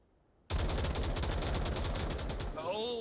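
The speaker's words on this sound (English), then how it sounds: "Oh, and the long-range gunshots onto Lost Ion." A rapid, loud burst of gunfire in the VR shooter Onward, a long sustained volley of close shots that starts abruptly and runs for about two seconds before a voice comes in at the end.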